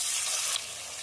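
Chopped onion and tomato sizzle steadily in a pan for a bhetki fish kalia. The frying hiss is soft and close, with no voices.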